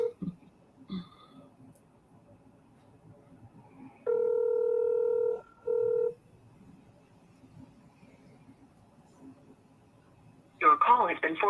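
A phone call being placed: a steady ringback tone sounds twice in a row, the first long and the second shorter, after faint background noise, with a brief burst of voice at the end.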